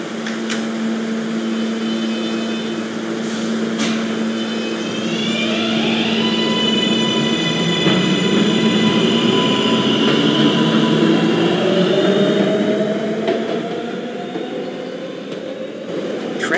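An R143 subway train on the D line in a Roblox game runs steadily with a continuous rumble, joined by rising whining motor tones as it moves along, with a few brief clicks.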